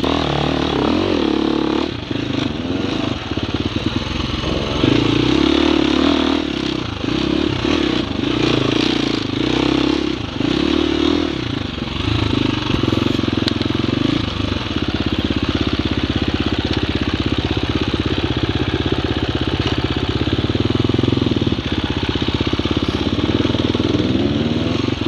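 An enduro motorcycle engine runs steadily and close by as it rolls across a sandwash, with a continuous revving drone and some clatter for the whole stretch.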